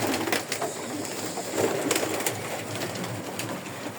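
Pigeons coo softly and steadily in a loft against a constant broadband background hiss, with occasional faint clicks and rustles; no one speaks.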